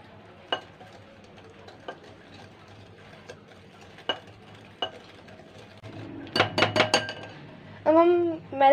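Zeera cookie dough being mixed in a bowl, sparse spoon taps and clinks against the bowl at first, then a burst of quicker scraping and clattering strokes near the end.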